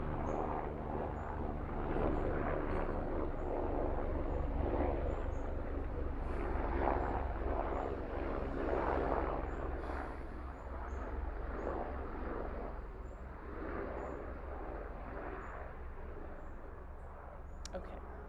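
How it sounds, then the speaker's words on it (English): A plane passes overhead as a broad, steady low roar that swells and fades across the whole stretch, with some wind noise and faint bird chirps high above it. "There's a plane going by."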